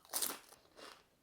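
A single bite into thick, folded salt and vinegar kettle chips gives a brief crisp crunch, followed by a fainter second crunch, quiet and close with no talking.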